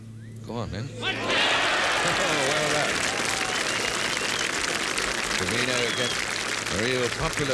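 A golf crowd at the 1972 Open cheers and applauds Lee Trevino's shot, a loud sustained roar of clapping that swells after a second and holds, with a commentator talking over it.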